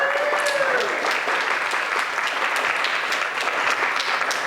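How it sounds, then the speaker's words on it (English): Steady applause from a crowd at a game jam awards ceremony, sustained clapping that continues evenly throughout with a brief whistle near the start. "one last round of applause for our winners"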